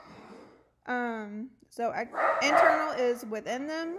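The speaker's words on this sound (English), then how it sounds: "Sorry if you can hear my dogs barking." Dogs bark and yip a few times in the background behind a person speaking nearby, the barks short and partly masked by the voice.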